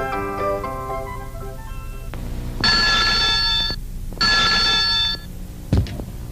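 A 3D Mr. Phone, a cordless handset with a speakerphone base, rings in a TV advert: two long electronic trilling bursts after a short musical jingle, then a brief thump.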